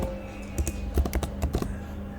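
Close computer keyboard typing while entering a login form's email placeholder text: a short run of crisp key clicks in uneven bursts, with no talking.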